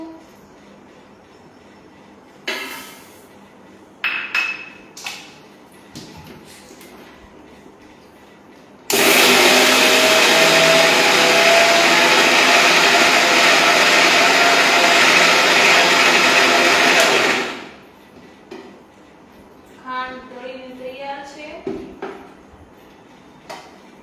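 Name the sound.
mixer grinder crushing sugar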